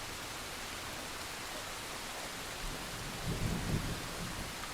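Steady rain pours as a dense, even hiss, while a low rumble of thunder swells and fades partway through. No voices are heard.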